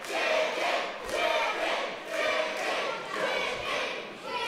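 Wrestling crowd at a British professional wrestling match reacting with loud swelling jeers and shouts in rolling waves, a dense roar filling the hall.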